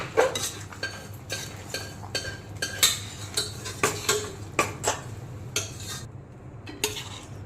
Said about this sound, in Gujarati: હવે બરાબર સારી રીતે એને આપણે મિક્સ કરી દઈએ